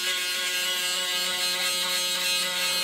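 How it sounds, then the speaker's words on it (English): A razor shaving a face, heard as a steady close electric buzzing hum that runs unbroken throughout. "Okay, first step will be shaving."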